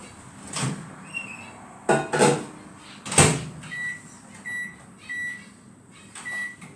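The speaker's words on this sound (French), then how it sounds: "Micro-ondes." A microwave oven in a kitchen, used to melt butter: door clunks and knocks, then a series of short high electronic beeps spaced evenly, close and clear with no talking.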